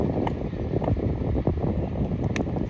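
Wind gusts across an outdoor cricket ground during a tournament match, a steady broad rushing roar with brief buffeting bursts against the microphone and no voices.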